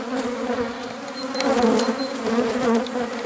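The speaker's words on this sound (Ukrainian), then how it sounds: "бджоли дуже-дуже злі" Loud, agitated buzzing of many angry honeybees swirling close by at a hive in April, rising and falling in intensity, with a few individual bees zipping past.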